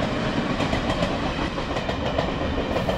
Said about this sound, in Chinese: 因为这班最新自强号火车，让我兴起再拍一段五湖镇的视频。